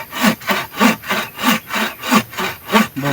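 Hand saw cutting through wood, a steady back-and-forth rhythm of about ten rasping strokes at an even pace, close and loud, with no talking.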